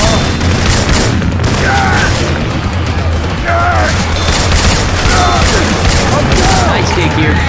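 Weapon fire in the video game Left 4 Dead 2 using Syphon Filter weapon sound effects, dense continuous bursts of booming shots under a constant low game hum, with players talking over the action.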